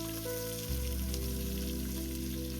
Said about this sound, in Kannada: ಆನಿಯನ್ನ ಇದಕ್ಕೆ ಹಾಕೊಂಡು ಚೆನ್ನಾಗಿ ಫ್ರೈ ಮಾಡಬೇಕು